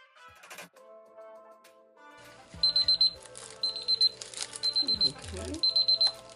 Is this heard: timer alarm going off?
yes